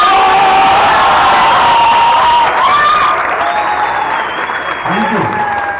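Loud, sustained applause and cheering from a large audience at a Jashn Bihar show in Sasaram, close and continuous with whoops and shouts mixed through the clapping.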